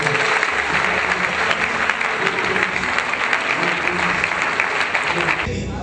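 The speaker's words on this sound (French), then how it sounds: "Acclamons pour le Seigneur." A church congregation applauds steadily and loudly for the whole stretch, a dense wash of clapping with a few scattered voices mixed in, and it stops abruptly near the end.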